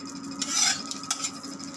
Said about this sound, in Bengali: চুলা অনেক গরম হয়ে গেছে, কড়াইটা অনেক গরম হয়ে গেছে, পরোটাটা দিয়ে দিচ্ছি